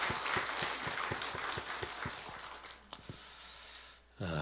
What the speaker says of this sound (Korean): 여러분의 섬김 고맙고 또 축복합니다 하는 의미로 우리 박수 한번 하겠습니다